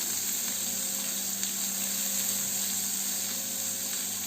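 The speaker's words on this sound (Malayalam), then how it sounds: "ഒരു മീഡിയം സവാള കുറച്ച് വലുതായി കട്ട് ചെയ്തത് ചേർത്ത് കൊടുക്കാം. നല്ലതുപോലെ ഒന്ന് വഴറ്റി കൊടുക്കാം." Medium onion pieces sauté in a pan, giving a steady, even sizzle at close range with no speech.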